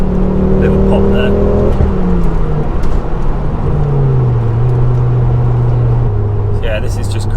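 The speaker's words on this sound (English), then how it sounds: "this is just cruising along at the national speed limit now" Ford Focus RS Mk2 cruising at the national speed limit, a continuous engine drone and road noise heard from inside the cabin, with pitch shifting down as it settles into a steady cruise.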